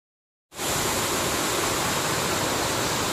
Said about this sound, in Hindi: ये पानी बेलन नदी में चला जाता है, इधर आता है मिसरिया बंधा से